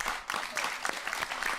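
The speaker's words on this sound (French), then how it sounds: "T'as applaudi pour rien, là, par contre." Applause from a small audience, a short burst of clapping lasting under two seconds, close and fairly loud with no talk over it.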